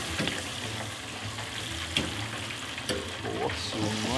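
Fish chicharrón frying in oil in a potato fryer, giving a steady close sizzle with a few sharp spits and crackles as pieces move, while people chat in the background.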